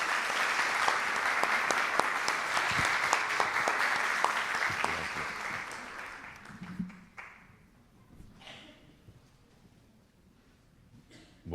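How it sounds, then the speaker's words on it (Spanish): A theater audience applauds an invited professor with dense, sustained clapping that gradually thins and dies away into near quiet. "Un aplauso,"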